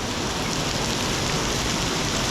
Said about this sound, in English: you can still see all that rain